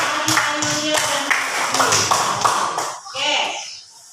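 Classroom applause for a student named Ayu, with a run of sharp claps from a group that fades out near the end while voices murmur underneath.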